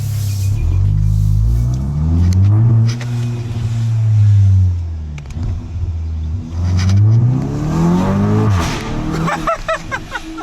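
A Volkswagen MK8.5 GTI fitted with a Rev9 exhaust revs hard several times, loud and close, its engine note rising and falling in repeated pulls with no talking over it.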